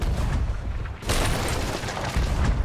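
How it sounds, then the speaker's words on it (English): Deep booming cannon blasts from a ship in the pirate video game Sea of Thieves, heavy rumbling explosions that swell loudly and roll on through the stretch with no voices. "I might have just killed him with the cannon"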